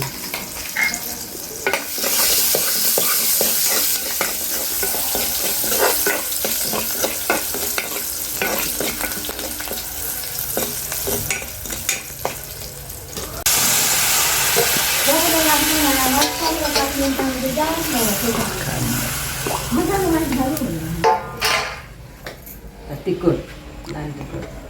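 Mustard seeds, asafoetida and garlic sizzle and crackle in hot oil for a Konkan mango raita, a steady close frying hiss with stirring scrapes, while a voice talks over part of it.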